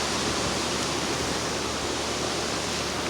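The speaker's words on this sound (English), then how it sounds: "oh, there comes the wind there," Steady broadband roar of gusty wind during Tropical Storm Florence in Lexington, South Carolina, continuous and loud without distinct lulls.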